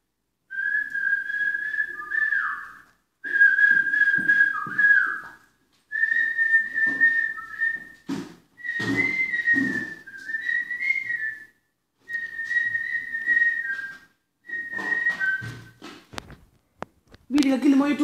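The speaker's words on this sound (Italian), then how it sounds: "come fischi buono" A person whistles a melody in a run of steady, sustained phrases separated by short pauses, loud and close, with a few clicks and rustles between phrases.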